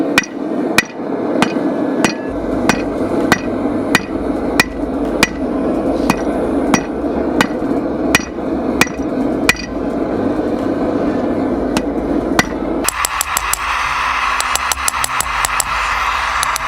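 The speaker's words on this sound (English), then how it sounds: "when forging this out, I'm just making it into a bar and getting the right thickness of the steel" A hammer forging a steel bar from a coil spring, for a knife blade: loud, evenly spaced ringing blows, close by, about one per second, then a burst of quicker lighter taps near the end.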